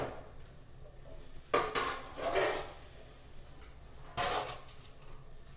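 A clay griddle is handled while millet flatbreads are lifted off and a fresh one is put on, giving a few close, separate metallic clatters and scrapes over a quiet kitchen background.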